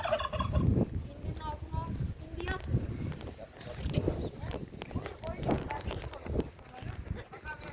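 A turkey gobbles several times in quick rattling bursts, fairly close, while people talk and laugh nearby.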